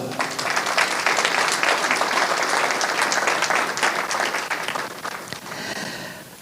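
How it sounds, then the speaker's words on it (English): Audience at a diplomatic speech event applauds heartily, dense clapping rising fast and holding strong before thinning out toward the end. "And I want to hear a hearty clap for that."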